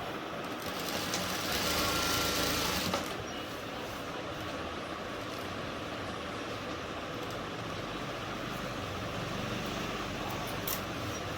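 A sewing machine stitches the fall onto a saree, giving a steady mechanical whir for the whole stretch, with a louder burst near the start and no talking.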